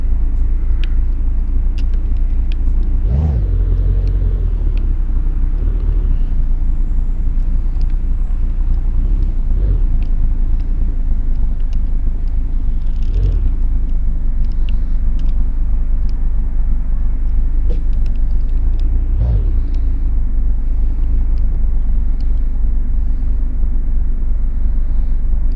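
A truck in American Truck Simulator idles with a deep, steady engine rumble while parking, loud and continuous, with occasional low thumps and surges rising above the drone.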